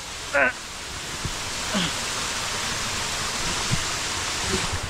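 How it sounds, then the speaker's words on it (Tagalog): Amamaliwan Falls in Calbayog City roars as a constant broadband rush of falling water, with a few brief voices cutting in faintly over the steady wash. "Ito yung falls mismo"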